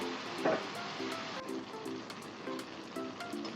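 Spinach wilting in a hot pan, a steady soft sizzle and crackle running throughout with faint scattered pops, close and fairly quiet.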